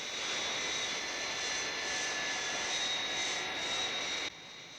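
Aircraft engine drone during a descent to 1,000 feet in a Thunderbirds episode: a steady, loud whining roar with a slowly wavering high tone, cutting to a quieter level near the end.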